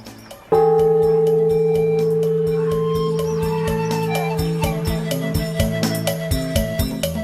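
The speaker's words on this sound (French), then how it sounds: "cette cloche qui est installée ici, elle est synonyme de paix et de prospérité, et donc on peut la faire sonner" A single temple bell is struck and rings out with a long, clear sustained tone, followed by a series of lighter repeated strikes as it fades.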